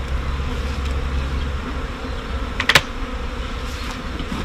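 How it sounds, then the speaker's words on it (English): Honey bees swarming around an opened hive box during a colony inspection, a steady dense buzz with a brief louder burst midway, no talking. "Plenty of bee activity."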